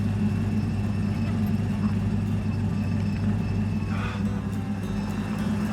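A muscle race car's engine drones with a steady low rumble, heard continuously and fairly loud throughout, with no talking.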